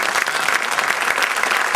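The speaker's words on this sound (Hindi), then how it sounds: "माँ के लिए इतनी कम तालियां नहीं होनी चाहिए।" Audience applause at a poetry recital: a dense, steady burst of many hands clapping together, fairly loud and brief.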